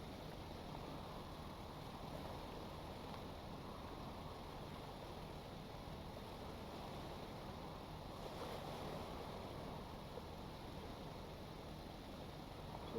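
A ship's engine idles in the Stormworks video game: a steady, continuous low rumble blended with the wash of surf and wind noise, with no talking.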